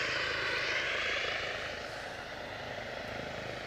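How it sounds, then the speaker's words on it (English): British Airways Airbus A319 jet on final approach into Aberdeen, a steady broadband engine roar that holds loud and then eases slightly as it passes, with no voices. "our inbound, British Airways A319"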